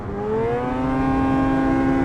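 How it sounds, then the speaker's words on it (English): A small snowmobile engine revs up and holds a steady, smooth, rising whine at close range, loud and continuous with no voices. "This thing is a little ripper of a motor. I mean, even at low RPM, it sounds good."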